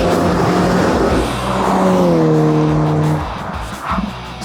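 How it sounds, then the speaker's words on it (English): A Skoda Yeti's tyres squeal while it races on a track, heard as a loud, sustained wavering screech layered over the roaring engine, then fading away. "Oh, so much tyre squeal."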